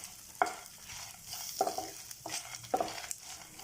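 Dal dry-roasts in a pan with black peppercorns, with several distinct spatula scrapes and stirs over a soft background hiss, close by and moderately loud.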